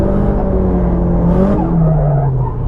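Tires squeal as a car is flicked into a low-angle drift on a cold morning, a loud close engine note sliding down in pitch with a brief burst of hiss in the middle.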